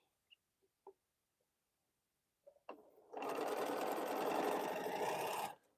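A sewing machine stitches quilt pieces in a steady, fast mechanical whir lasting a couple of seconds after a few soft clicks and handling taps, fairly close with no talking.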